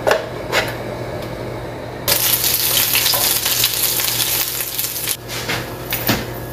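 Chili paste sizzles loudly in 80 ml of chili oil in a hot pan, a dense close frying hiss broken by stirring scrapes and the clink of a utensil against the pan.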